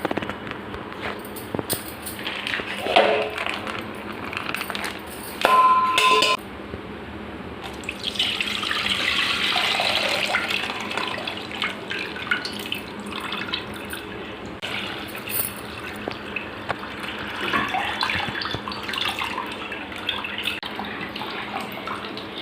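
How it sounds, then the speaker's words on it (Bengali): Milk is poured into a pot of boiling rice, giving a steady liquid splash and trickle that runs for most of the stretch over faint kitchen clatter. "এবার আমি দুধগুলো ঢেলে নেব।"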